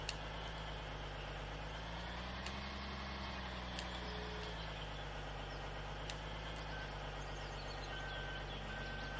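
A tractor in the video game Farming Simulator 2013 drives with a steady, continuous engine drone that swells slightly in pitch, alongside faint clicks and short beeps.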